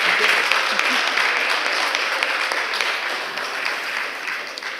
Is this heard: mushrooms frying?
no